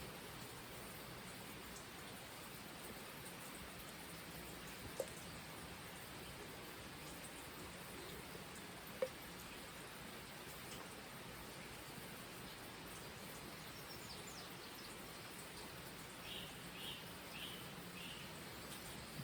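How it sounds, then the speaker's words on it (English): Steady rain falling outdoors in the early morning, a soft, even wash of drops with faint birdsong and an occasional sharper drip, calm and distant with no voices. "you just get to sit here and listen to the birds and the rain, because it's raining right now."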